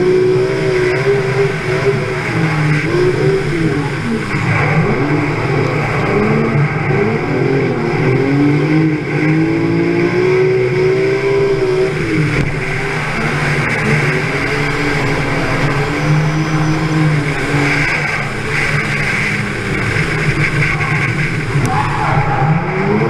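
A drift car at Mondello Park revs hard and skids continuously, its engine note rising and falling in long sweeps with tyre squeal, loud and close, alongside other engine noise.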